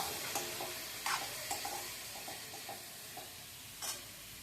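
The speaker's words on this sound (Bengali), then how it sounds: "এই তো ডিমটা কষিয়ে নিচ্ছি আর পরে একটু জল দিয়ে আবারও একটু কষাবো" Egg curry being sautéed in a pan, with a steady soft sizzle of frying and scattered scraping and tapping of a spatula against the pan, heard up close at low volume.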